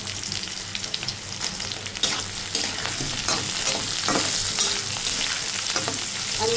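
Chilies fry in hot oil in a pan, a steady, fairly loud sizzle with occasional stirring scrapes and crackles throughout, no voices.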